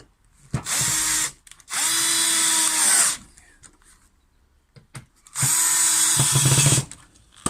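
Power drill boring holes in wood with a template for the pulley stiles during a sash window repair, three loud sustained bursts of about one to one and a half seconds each, separated by short quiet pauses.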